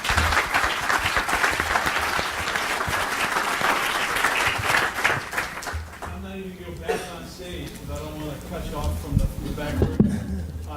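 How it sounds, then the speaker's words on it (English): An audience at a membership meeting applauds panelists with a dense burst of clapping for about six seconds that fades out, after which someone speaks over the last scattered claps. "a round of applause for our panelists"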